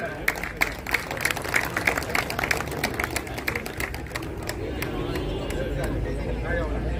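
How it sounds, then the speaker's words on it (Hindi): Welcoming applause at a ceremony in Doiwala, Dehradun honouring martyr Major Durga Malla of the Azad Hind Fauj: crowd clapping crackles steadily, then fades into a murmur of voices and room noise. "जोरदार तालियों से स्वागत।"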